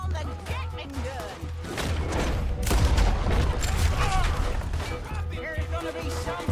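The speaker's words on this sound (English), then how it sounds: "That boy's gonna get on the Gatling gun." Gatling gun fire in a Red Dead Redemption 2 shootout, dense rapid bursts of shots and booming impacts, loud and close, with voices shouting over the barrage.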